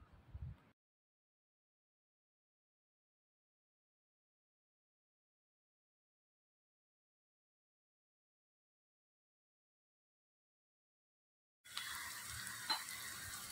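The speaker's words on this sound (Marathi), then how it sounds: "कांद्याचा रंग छान असा ब्राऊन होईपर्यंत आपण त्याला तेलामध्ये छान परतून घेणार आहे" Onions frying in oil until browned for a spicy Maharashtrian gavar thecha, a loud sizzle that breaks in abruptly after a long silence and runs for only about the last two seconds.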